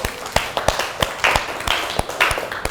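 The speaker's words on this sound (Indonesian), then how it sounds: "beri tepuk tangan" A small classroom audience claps in a loose, uneven rhythm of distinct near hand claps, sparse rather than a full ovation, lasting a few seconds.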